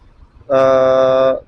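A single taxi horn blares in one steady, loud honk of just under a second, over faint background noise.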